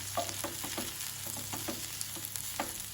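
Grated coconut roasting in a pan for jeera rasam, a soft, steady dry sizzle with light scraping stir strokes repeating through the moment, no talk.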